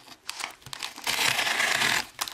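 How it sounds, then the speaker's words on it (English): Scissors slice through packing tape on a box being unboxed, a close, loud crinkling and tearing rasp lasting a couple of seconds. "I have my trusty scissors over here, and I'll cut one of the sides."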